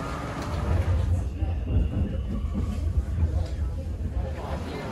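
Inside Amsterdam Central train station, a steady low rumble of rail traffic and hall reverberation mixes with a murmur of distant crowd voices throughout.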